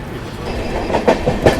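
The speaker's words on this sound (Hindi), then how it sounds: "ये लो ऊपर से मेट्रो भी आ गई," A 4-coach Jaipur Metro train rumbles by overhead with rhythmic clickety-clack of wheels over rail joints, steady and fairly loud, with no voices.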